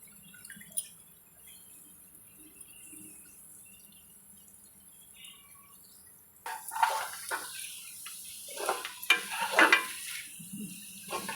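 Ivy gourd (dondakaya) fry cooking in a pan, faint low sizzling at first, then louder bursts of crackling and stirring scrapes in the second half, close and uneven.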